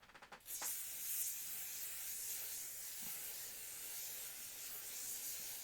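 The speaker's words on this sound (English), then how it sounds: "I'm going to spray my back." Aerosol spray hissing steadily onto a person's back, a continuous close, bright hiss lasting several seconds after a few short opening bursts.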